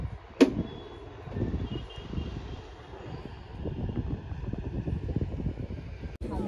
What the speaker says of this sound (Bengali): বোট চলে যাচ্ছে।